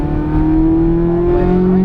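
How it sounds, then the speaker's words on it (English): Race car engine at Las Vegas Motor Speedway building power toward full throttle, a loud steady drone with a slowly rising pitch heard up close, without pauses. "build the power, roll all the way to full throttle now"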